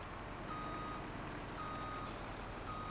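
A truck backing into a gap in a farming video game, its reversing alarm beeping at a steady, regular interval over a constant engine drone, loud and close with no talk.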